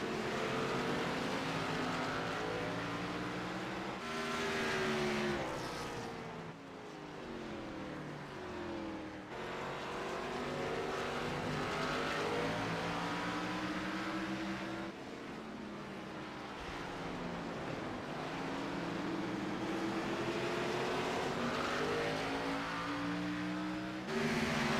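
Sim race cars lapping the short Martinsville oval in a stock-car series, several engines roaring and sweeping past in overlapping waves of pitch, loud and continuous throughout with no voices.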